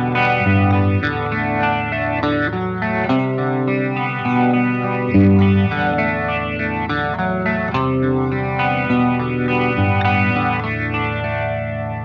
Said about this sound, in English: here's how Eric Clapton used the Leslie on Badge